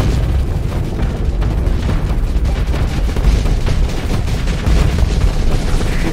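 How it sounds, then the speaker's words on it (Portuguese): Anti-armor cannon fire and explosions from the space combat game Starsector form a loud, dense barrage of booms and blasts that continues with no break and no talking. "que eu tô atirando é canhão anti-armadura"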